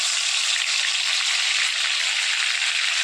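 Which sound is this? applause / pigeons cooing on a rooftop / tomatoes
tomatoes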